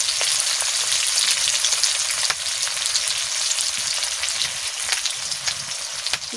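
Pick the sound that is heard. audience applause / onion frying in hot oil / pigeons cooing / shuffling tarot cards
onion frying in hot oil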